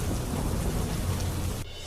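Heavy downpour with rumbling thunder in the Ambaji, Danta and Hadad area, a steady dense roar of rain that drops off sharply near the end.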